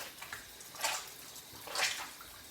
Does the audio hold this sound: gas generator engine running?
no